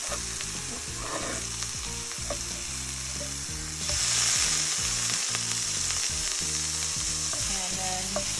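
A vegan ground-meat patty fries in a pan with a steady, close sizzle that grows louder about halfway through, with soft scraping from a spatula underneath and no talking.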